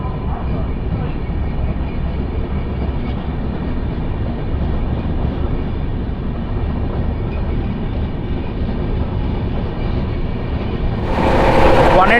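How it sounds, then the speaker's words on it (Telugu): The Tirumala Express, a Visakhapatnam–Guntakal passenger train, runs along with a steady loud rumble and rattle of carriages, rising slightly near the end. "విశాఖపట్నం నుంచి గుంతకల్ వరకు వెళ్ళే తిరుమల ఎక్స్ప్రెస్."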